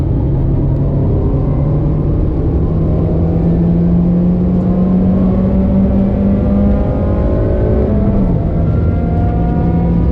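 A Toyota Yaris races on track at Silverstone, its engine droning loudly and steadily from inside the car, the pitch rising gradually through the gears with a constant road rumble and no talk.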